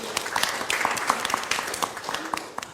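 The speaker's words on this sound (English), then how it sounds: "Thank you very much. Round of applause." An audience at a corporate summit panel gives a round of applause, with individual claps standing out of a moderate wash and a faint voice underneath.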